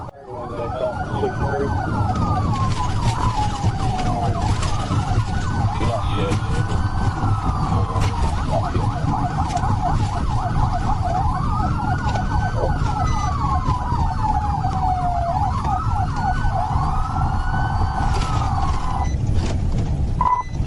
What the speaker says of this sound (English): The officer turned on the light and siren, prompting the driver to slow down and stop.